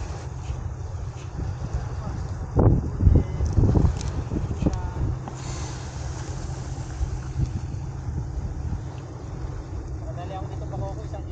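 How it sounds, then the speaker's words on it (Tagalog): Strong wind gusts by the water at Baseco buffet the microphone, with heavy low rumbling bursts and a louder gust near the middle, while a person talks intermittently over it. "lumakas na talaga hangin"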